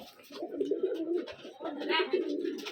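Two pet pigeons cooing nearby, soft throaty rolling coos repeating in short phrases, close and clear.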